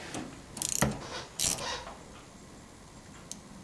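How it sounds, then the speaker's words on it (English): A 17mm socket on a ratchet loosens a rear shock bolt on a 2005 Scion xB, with two short bursts of quick metallic clicking up close, then quiet. "17mm ratchet, or socket, with your ratchet, and take them up."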